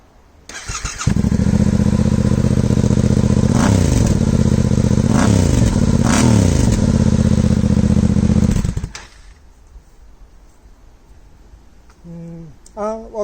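A motorcycle engine fires up and runs loud and steady with several sharp revs, then cuts off abruptly, leaving quiet background with faint later noises.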